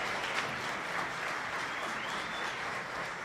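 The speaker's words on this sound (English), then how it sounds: "Now you can clap." Sustained applause from an audience at a graduation commencement ceremony, a dense, even wash of clapping hands that holds steady from start to finish with no voices over it.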